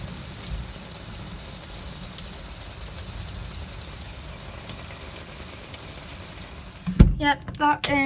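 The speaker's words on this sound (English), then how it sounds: "That was the thunder." Thunder rumbles during a heavy rainstorm, a low, steady grumble under constant rain noise heard through an open window, followed by a sudden louder crack and burst near the end.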